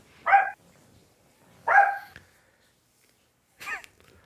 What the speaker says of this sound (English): have to deal with a barking little dog every now and then.